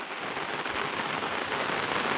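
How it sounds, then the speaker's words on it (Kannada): Heavy rain pours steadily, a dense close hiss of drops striking surfaces around a house where water has pooled everywhere, loud and unbroken with no voices. "ಸೊ ಯಾವ ರೀತಿ ಮಳೆ ನೋಡಿ"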